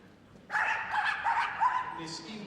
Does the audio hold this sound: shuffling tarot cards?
no